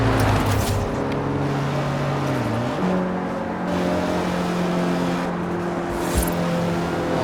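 Cars drive past in Forza Horizon 4, their engine tones rising and sliding in pitch as they pass close by, with a steady motor drone running throughout and no talking.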